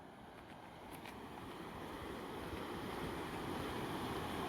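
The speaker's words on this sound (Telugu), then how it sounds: "వాటర్ అయితే హెవీ ఫ్లో ఉంది." Heavy water flow at a hidden waterfall in Andhra Pradesh, swollen after recent rains, makes a steady, broad rushing roar that builds slightly and holds, with no talking.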